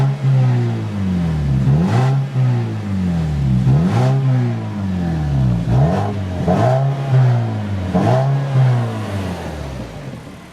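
A 2014 Mazda3's 2.0-liter Skyactiv four-cylinder, 155 horsepower with a 6-speed manual, revs repeatedly in about five rising-and-falling sweeps, loud and close, with no talking.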